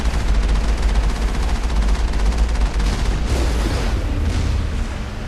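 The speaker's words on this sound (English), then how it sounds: "they're using our turrets against us" Enemy turrets firing in Mass Effect: a rapid mechanical stutter of shots with heavy low booms, loud and sustained, easing off slightly toward the end.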